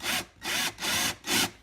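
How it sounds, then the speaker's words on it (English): Drilling into wood with a 1/2 inch bit at an angle to build a carpenter bee trap, heard as four rhythmic, grinding bursts of roughly equal length separated by short gaps, close and fairly loud with no talk. "And you want to drill up at an angle with this 1/2 inch bit."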